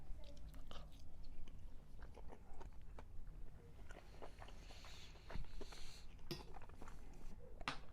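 Someone eating pulled pork mac and cheese cooked on a Kamado Joe grill, with soft close chewing and wet mouth sounds and a few small clicks over a low steady background hum, with no talk.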